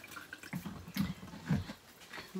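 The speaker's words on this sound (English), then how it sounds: "So we're going to put the water in there." Well tap water is poured into canning jars for preserving frozen corn, a steady, faint splashing trickle with soft gurgles throughout.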